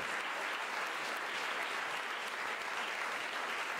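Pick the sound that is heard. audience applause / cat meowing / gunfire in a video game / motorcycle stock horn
audience applause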